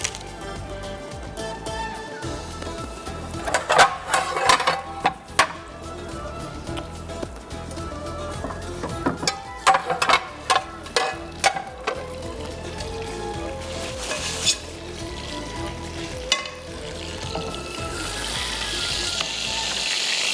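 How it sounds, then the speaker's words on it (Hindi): Vermicelli frying in Dalda cooking oil gives a continuous sizzle with bursts of crackling and spattering. It sits close and fairly loud, swells and fades in waves, and no voices are heard. "इसको मैं डालडा कुकिंग ऑयल में फ्राई करूँगी"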